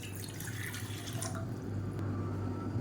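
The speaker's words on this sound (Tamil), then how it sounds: "இதில் வந்து நல்லா நூற்றி ஐம்பது எம்எல் அளவுக்கு தண்ணி சேர்த்துக்கலாம்" Water runs steadily from a tap into a cooking pan, about 150 ml for a cumin and dried turkey berry drink, a soft continuous splashing stream without talk.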